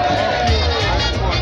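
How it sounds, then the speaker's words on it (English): Lively crowd at a weightlifting challenge during the Carriacou Regatta 2023 competition, a dense close wash of clapping, cheering and chatter that holds steady throughout with voices mixed in. "Some clap, make some noise."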